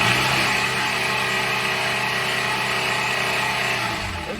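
A Volkswagen 2.0L EA888 engine with 162,000 miles, run low on oil, roars loud and steady as it is floored, the harsh revving sound fading slightly at the end.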